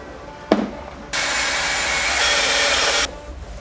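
A power sander with a 400-grit pad runs on a Porsche 996 Turbo. A sharp knock comes first, then a steady, close, hissing whir lasts about two seconds before cutting off.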